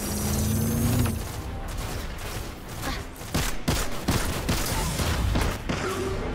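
Gunfire and heavy weapon bursts in a Destiny 2 Nightfall firefight against Cabal enemies, a dense, continuous fusillade of shots and impacts running the whole stretch, with louder blasts clustered in the second half.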